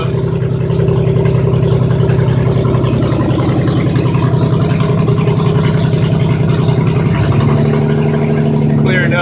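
A 2008 Hyundai Santa Fe with a freshly replaced engine idles steadily and loudly up close, a continuous low rumble with a shift in tone near the end.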